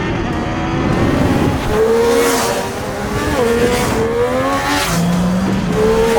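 A Triumph Street Triple 765 RS with its 765cc engine revs hard to high RPM, a loud, close, rasping wail that climbs and falls in repeated sharp bursts.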